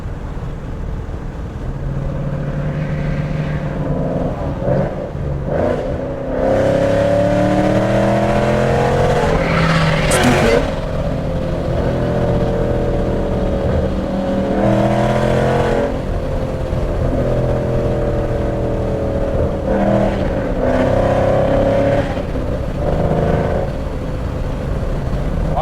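Ford Mustang GT and a diesel truck racing side by side, heard from inside the car: loud, steady engine roar with repeated rising revs through gear changes, continuous and close throughout with no talk.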